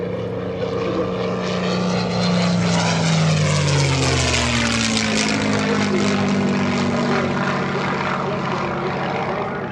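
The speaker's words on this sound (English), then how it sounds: "fighter making pass now. P-51 Mustang." A P-51 Mustang propeller fighter plane roars past close by at an airshow, its engine pitch sliding downward as it passes, loud and sustained with a droning tail.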